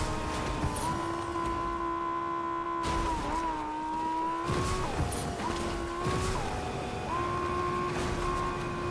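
Video game car engine from Fortnite droning steadily with tonal pitch shifts as it drives, brief gear-change dips and a few tire-skid bursts, loud and continuous with no talk.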